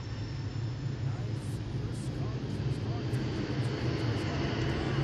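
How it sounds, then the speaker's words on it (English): A steady, low droning rumble of an airplane passing overhead goes on continuously, moderately loud, with a few faint higher clicks above it. "I don't know if you can hear that airplane."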